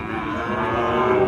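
A dairy cow moos in one long, steady, low call at a busy cattle market, close and fairly loud, filling the whole moment.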